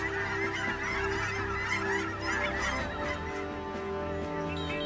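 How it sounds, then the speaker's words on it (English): A flock of geese honking continuously in wetlands, many overlapping calls at once, fairly loud and close with no pauses. "The geese share the wetlands with wintering ducks."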